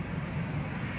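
Airliner jet engines spool up for departure at Amsterdam Schiphol Airport, a steady broad low roar that holds at close range, with no voices heard.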